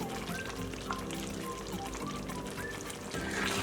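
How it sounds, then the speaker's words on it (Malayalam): Cream pours into a pan of simmering paneer butter masala, a continuous bubbling sizzle with soft liquid gurgles and a few light clinks, close and moderately loud throughout. "ഞാൻ ഇതിലേക്ക് ഒരു 1/4 കപ്പ് ക്രീം ആഡ് ചെയ്ത് കൊടുക്കുകയാണ്"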